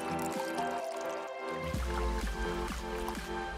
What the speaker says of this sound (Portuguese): Adicione água.